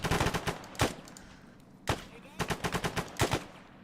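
Rapid gunfire in a Falklands campaign video game mission, with short bursts of sharp, punchy shots in quick succession, a few single cracks between them, moderately loud and close.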